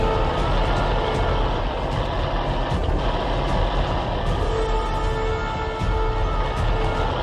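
A heavy off-road stone-hauling truck in the game Spintires, its engine roaring loud and constant with a faint tonal beep layered in partway through.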